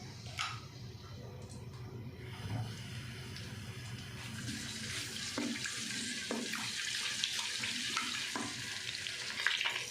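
Soft sizzling and frying of ginger-garlic paste in ghee in a pan with occasional stirring clinks, fairly quiet and close, no talking.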